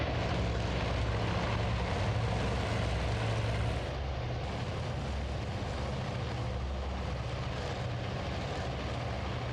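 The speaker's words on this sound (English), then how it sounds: "There's some engines running there, and any moment now they'll start rolling down the deck and take off the carrier." Steady, low droning of carrier aircraft engines idling on a flight deck in a Pacific War video game, a constant propeller and engine rumble with no talk.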